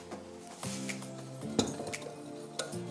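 Tapioca flour, rice flour and a pinch of salt stirred together in a bowl, giving a few light clinks and scrapes of a utensil against the bowl, close and quiet, with no voices.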